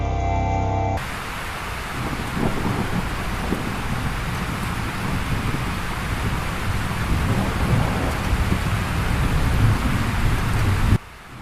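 Heavy rain pours steadily in a horror cartoon, with deep thunder rumbling beneath the downpour, a dense, continuous storm wash lasting throughout.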